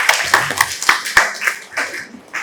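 A few people at a Punjabi school give sparse, uneven hand claps, distinct individual slaps spaced irregularly rather than a full round of applause, with some faint voices mixed in.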